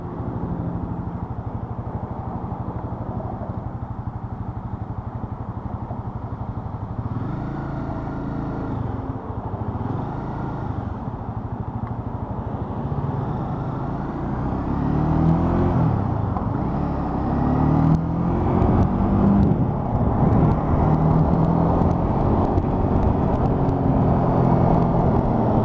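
Road traffic on a Sunday in Ontario, cars passing in stop-and-go flow, a steady broadband engine and tire rumble that swells louder toward the end, with no talking.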